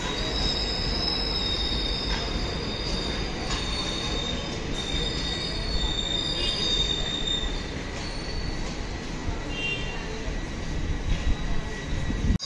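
The SMVT Bengaluru–Visakhapatnam Express rolls steadily past, with loud continuous rumbling of wheels on rails and high squealing metal tones throughout, close by and without talk.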